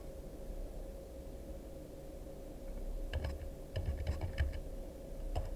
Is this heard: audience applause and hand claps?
no